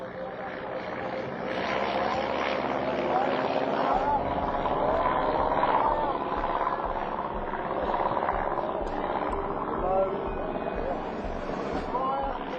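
Vintage World War One-era plane flying at nightfall, a steady loud propeller engine drone sustained throughout, with talk over it.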